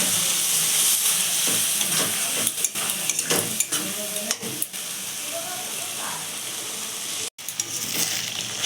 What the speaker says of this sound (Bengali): অনেকক্ষণ ধরে আমি মশলাটা প্রায় অনেকক্ষণ মিশিয়ে নিয়েছি, কষিয়ে নিয়েছি।